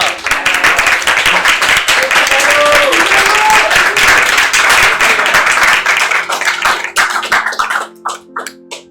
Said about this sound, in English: Big round of applause for Tynamo.